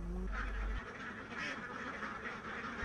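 A flock of farm ducks quacks continuously in a steady chorus at moderate distance, recorded around a pen where they are fed bran.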